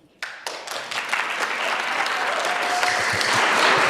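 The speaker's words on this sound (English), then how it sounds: "Please refrain from clapping." An audience at a school district governing board meeting breaks into clapping, starting with a few sharp claps and swelling into steady, dense applause that keeps building.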